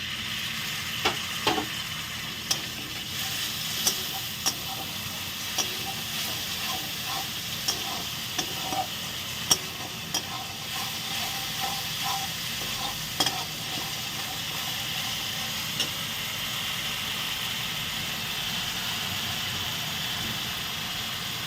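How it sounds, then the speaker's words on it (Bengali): Green papaya with mung dal being stir-fried in a pan with a little water, a soft continuous sizzle with occasional scraping stirs and clicks, close and moderately quiet. "এবার সামান্য জল দিয়ে একটু কষে নেব।"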